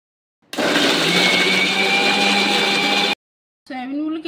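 A mixer grinder blends chopped tomatoes and green chilies with ginger into a paste, a loud steady whirring roar lasting a few seconds, then stopping, followed by a shorter burst of the motor spinning back up.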